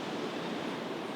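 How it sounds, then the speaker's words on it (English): Ocean surf at the Belham River mouth on Montserrat washes in as a steady, soft, continuous hiss with no voices, heard from a short distance on a calm day. "the waves at Belham make themselves heard"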